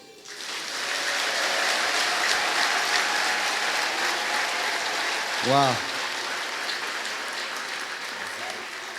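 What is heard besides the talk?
congregation clapping with raised hands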